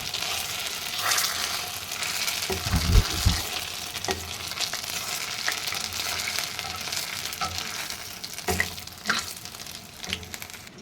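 Homemade paneer pieces made from papaya fry in a pan with a continuous crackling sizzle. Scattered pops and stirring clicks come through, and a low thump sounds early on.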